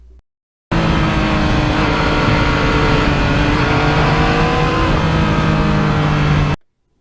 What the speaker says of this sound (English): it's great to have a bike that doesn't draw too much attention, not too loud of an exhaust